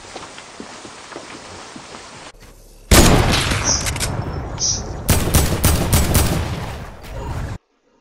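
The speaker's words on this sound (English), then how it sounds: "I also just sniped that guy in the head, and it took him for 150" A sniper rifle fired in Fortnite, among a loud burst of gunfire and booming impacts that cut in sharply partway through and run until an abrupt stop.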